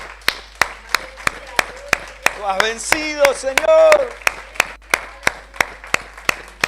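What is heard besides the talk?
congregation applauding in church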